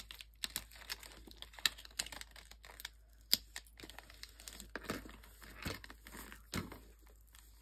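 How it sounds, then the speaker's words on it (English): Packing tape is pressed onto a plastic baggie lying on paper, giving close, irregular crinkles, snaps and crackles with no talking. "I'm just going to place a piece of packing tape on the plastic"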